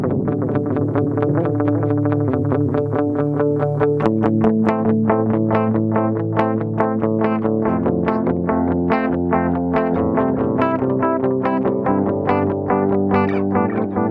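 An electric guitar plays a continuous, rapid picked pattern through a Boss DD-7 delay pedal, notes smearing and repeating into a dense, shimmering wash.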